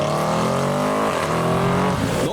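A loud modified car pulls away from a car show in heavy rain. Its engine holds a strong, harmonic-rich drone that dips and then climbs again as it revs off, close and with no talk over it.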